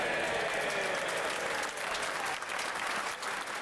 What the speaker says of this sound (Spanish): De pie y en un prolongado aplauso, el Parlamento hizo justicia a la tenacidad de May.